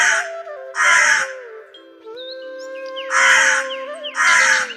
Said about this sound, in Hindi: जोर-जोर से काऊ काऊ करना शुरू कर दिया